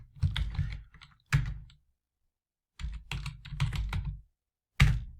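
Computer keyboard typing up close, bursts of quick key clicks separated by short silences, ending with a firmer single key strike.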